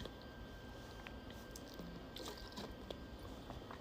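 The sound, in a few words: sipping a drink of water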